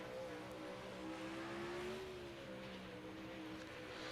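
A no-limit sprint car engine roars at Lernerville race track, a loud sustained rasping drone that rises slightly in pitch and falls back, with no talking over it.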